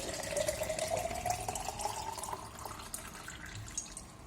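Tap water runs into a container, a steady splashing stream whose pitch rises as the vessel fills, fairly quiet and close, with no talking over it.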